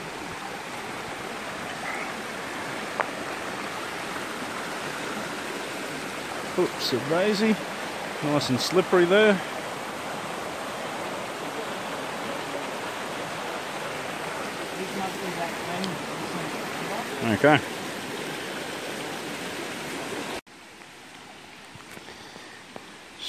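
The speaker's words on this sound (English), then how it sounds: "So may as well have a little bit of a look at the creek while I'm here." A small seasonal creek on the Coomera circuit at Binna Burra runs with a steady broadband wash of flowing water close by, while someone speaks briefly over it and footsteps scuff on slippery rock.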